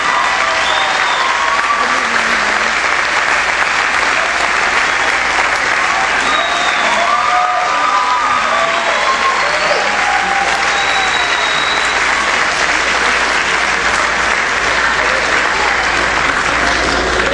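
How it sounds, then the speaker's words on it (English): Sustained audience applause at a senior awards evening, a broad, even wash of many hands clapping with faint crowd murmur underneath, continuing without pause. "let's give her a big round of applause"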